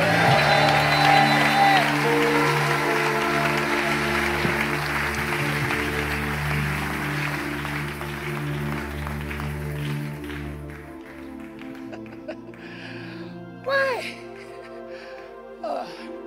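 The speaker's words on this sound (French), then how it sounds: "Si tu le crois, acclame-le encore plus fort." Congregation clapping and cheering during a church service, a dense crowd roar that is loud at first, then thins and fades with scattered voices and music carrying on underneath.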